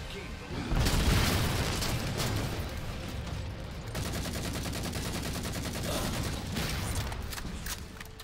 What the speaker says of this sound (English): I love the Halo 4 assault rifle.